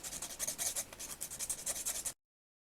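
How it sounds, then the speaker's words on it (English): Close, quiet rhythmic rasping as a toy arm is sanded by hand to shape a chamfer, with steady back-and-forth strokes of about four per second and no talk. "I'll do the bit of sanding just around to get that chamfer in place"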